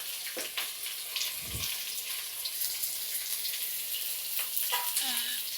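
Garlic and onion fry in oil in a kadhai for chicken, giving a soft, steady sizzle with stirring scrapes and occasional clicks.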